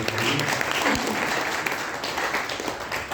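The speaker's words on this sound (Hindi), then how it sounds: "एक बार जोरदार तालियां बजाकर स्वागत करिए।" Loud, sustained applause from an audience at an Arya Samaj gathering, welcoming a speaker with dense clapping that fills the whole stretch without a break.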